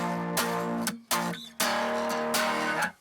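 Distorted electric guitar chords strummed with a very thin pick in bursts with short gaps, gritty, trashy and saturated, each stroke ringing sustained before cutting off.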